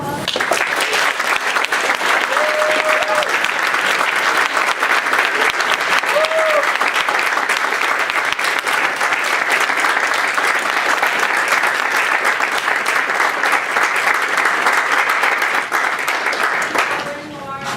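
Sustained, loud applause fills the room as a lecture audience claps steadily for nearly the entire stretch, dense and even, with some faint crowd voices mixed in before it tapers off at the very end.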